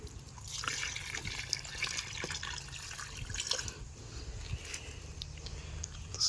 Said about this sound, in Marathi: थोडं पाणी आता याला घालावं लागणार आहे